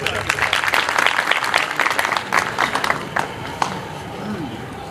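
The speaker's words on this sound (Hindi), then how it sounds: "12वीं साल के लिए बहुत सी तालियां बजा दी जाए।" An audience at a prize distribution ceremony claps in a burst of distinct close hand claps that thin out and fade toward the end, with some murmuring in the room.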